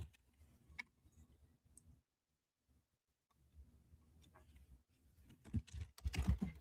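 Quiet computer keyboard typing comes as soft, irregular clicks and taps, pausing briefly in the middle before resuming, with a few louder knocks and bumps toward the end.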